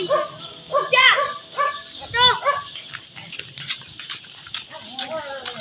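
Several dogs bark in short, sharp bursts in a forest, some close and some farther off, with a few overlapping yelps against a busy outdoor background.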